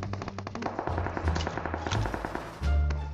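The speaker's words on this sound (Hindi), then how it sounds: "पुलवा का दूसरा किनारा से गोली चलने का आवाज आ रहा था" Rapid bursts of automatic gunfire crackle from across a bridge in the BGMI battle game, a quick run of shots followed by scattered single cracks and a heavier thump near the end.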